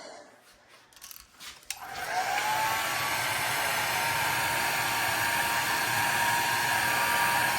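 A blow dryer switches on after a few faint knocks and runs steadily with a loud, constant whooshing hum to the end, during a basement fire alarm system test.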